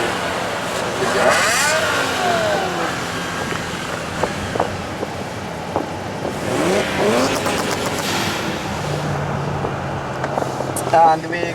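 Tuned 750 HP BMW M5 F10 with aftermarket exhaust and downpipes pulling from 50 km/h in second gear, a loud steady engine roar rising in pitch from inside the car, with a voice talking over it.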